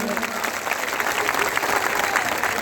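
A crowd at a political protest rally in Chhattisgarh, India, breaks into loud, sustained applause, a dense clatter of many hands clapping at once, with a voice speaking faintly underneath.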